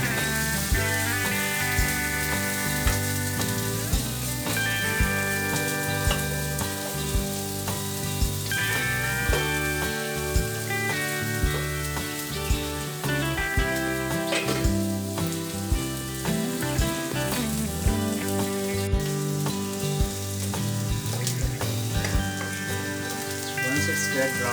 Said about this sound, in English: Make sure you caramelize the onion to light golden brown color.